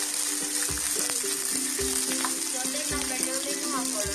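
Slit green chillies frying in an open pan on a flame, a steady bright sizzle running throughout with scattered pops and the occasional clink of a spoon stirring.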